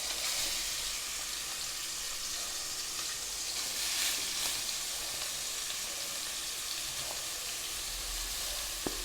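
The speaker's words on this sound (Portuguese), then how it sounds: "vamos começar a colocar aí a nossa carne moída" Ground meat sizzles and crackles steadily in a hot pan, a continuous frying hiss with no talking.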